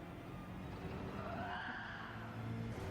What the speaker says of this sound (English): Little skid there.